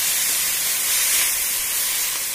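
Egg poured into a pan of frying homemade beef nam bursts into a loud, steady, hissing sizzle that holds evenly, close and bright, with no talk.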